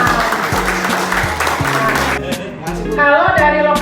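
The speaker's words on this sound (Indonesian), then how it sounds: "Tepuk tangan dong buat Mas Ilham." Audience applause at a sustainable development outreach session, a short burst of clapping from a group that carries on under a speaker's voice and some crowd murmur.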